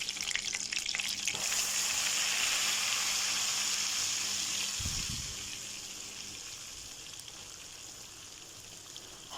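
Steady fat sizzling and crackling in a pan before flour is added for béchamel, fairly quiet, easing off slightly toward the end, with a brief low clunk midway.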